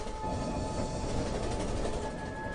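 An 1850s steam train at a railway station gives off a continuous, dense rumble and clatter that holds steady throughout, with no voices.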